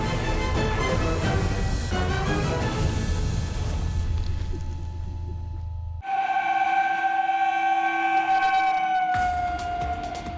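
Train on railway tracks, a loud, steady rumble from rolling stock with tonal whine, later giving way to sustained horn-like tones that hold for several seconds.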